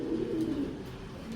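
A male tiger racer pigeon gives a short, soft, low coo, close and alone.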